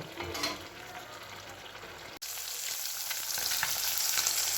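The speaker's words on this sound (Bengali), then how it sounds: "এখানে মাছ ভাজা বসিয়ে দিয়েছি" Fish frying in a pan makes a steady, close sizzle that grows denser and louder partway through after a brief break, with no talking.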